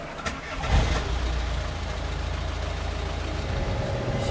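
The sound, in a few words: camper van engine starting and idling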